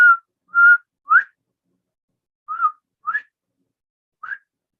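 A man whistles an imitation of a quail call, six short rising whistled notes in two loose groups, close and clear with silence between.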